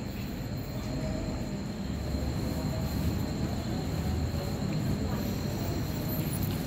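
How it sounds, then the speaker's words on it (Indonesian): A Majapahit passenger train pulling into Tulungagung station, heard as a steady loud rumble of rolling rail cars with faint wheel squeal and a constant hum throughout, close by on the platform. "Kereta api Majapahit telah masuk di jalur 1 stasiun Tulung Agung ya"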